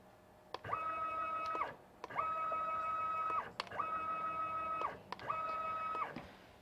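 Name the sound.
CNC machine spindle jogging up and down at maximum rate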